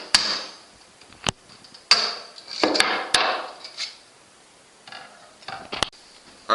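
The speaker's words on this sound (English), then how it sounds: "taking a large hammer and hammering through this air restrictor" A large hammer drives a screwdriver through the air restrictor of a Nerf Longshot CS-6 plunger tube, giving several sharp, close strikes at irregular intervals with scraping and rattling between them.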